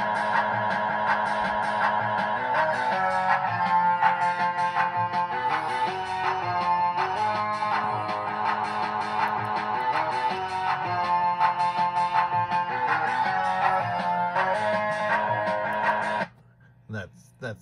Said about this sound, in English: That sound was coming from the background soundboard